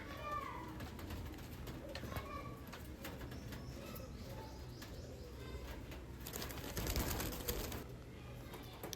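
Lal Sira pigeons coo softly in their coop, a low continuous murmur with occasional wingbeats and faint chirps, with a person speaking quietly in the background.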